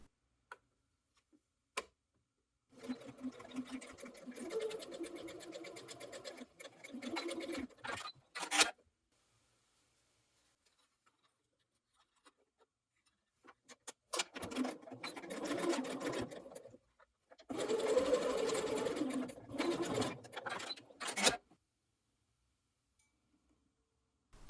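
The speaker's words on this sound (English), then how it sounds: "Sew from the inner corner at the top to the outer corner" An electric sewing machine stitches a continuous fabric strip for a hanging tea towel, its fast needle chatter running in several bursts of a few seconds each, separated by quiet pauses, close and steady.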